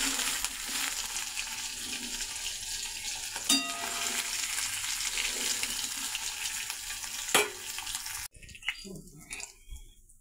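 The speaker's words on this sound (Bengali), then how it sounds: "পনিরটা আমার ভাজা হয়েই গেল, লাল লাল করে ভাজা হয়ে গেল" Paneer fries golden in a pan with a dense, loud sizzle and a couple of sharp clinks. The frying suddenly dies down near the end, leaving quieter crackles.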